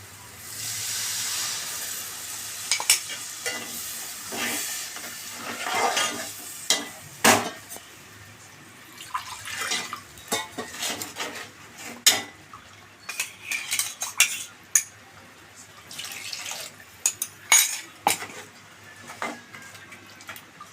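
A blended mixture being stirred after water is poured in, with utensil clinks and scrapes against the vessel over a faint hiss, close by, in irregular bursts with no talking.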